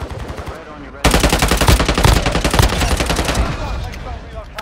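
Rapid automatic gunfire from the Warzone Mobile battle royale game erupts loud and close, a dense sustained volley after a brief quieter lead-in, with voices talking briefly underneath.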